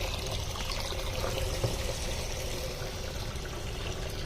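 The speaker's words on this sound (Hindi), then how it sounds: "आधे ड्रम पानी हो जाए यहाँ" Water from a hose pours into a drum with a continuous splashing trickle, fairly close and steady, with a low rumble underneath.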